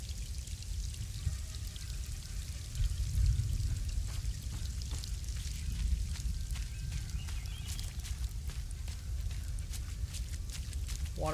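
Steady pouring and trickling water in a horror video game, a continuous splashing wash with scattered droplet ticks running throughout at moderate level, with no talk over it.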